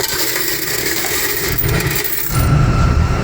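A runaway quarter clatters out of a laundromat machine, a brief metallic jingle close by over a steady mechanical hum.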